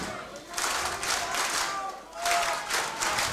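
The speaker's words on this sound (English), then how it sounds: "Crowd clapping for the World Series Wrestling Hall of Famer here." Wrestling crowd at an Australian championship event claps in two rolling bursts, a broad hissing patter with a brief lull between, with a voice over the top.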